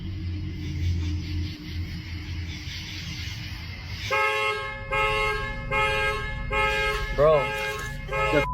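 Car horns toot repeatedly in short honks over low traffic rumble, with a rising and falling alarm-like tone near the end; people talk nearby.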